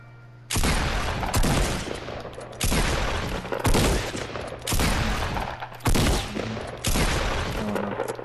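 Sniper rifle shots from Fortnite ring out repeatedly, loud and close, in rapid double-shot pairs with booming reports that decay between bursts, no voices over them.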